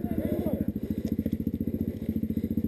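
Motorcycle engine running in a steady, fast pulsing rhythm, close and fairly loud, with light clattering over it through the whole stretch.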